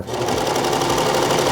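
A Baby Lock serger runs fast and steady, stitching through fabric with a dense, continuous mechanical whir close by; one brief spoken word.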